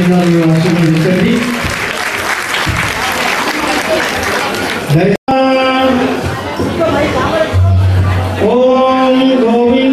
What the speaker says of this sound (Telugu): మీ చప్పట్లతో చిన్నారులు ఆశీర్వదించండి.